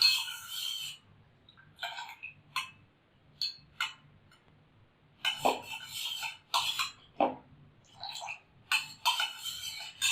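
A spoon clinks and scrapes against a bowl while pani puri water is stirred slowly, giving scattered light metallic taps separated by short quiet gaps in a calm kitchen.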